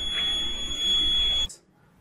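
A DIY motion-sensor burglar alarm buzzer sounds a steady, loud high-pitched electronic tone for about a second and a half, then cuts off abruptly into near silence.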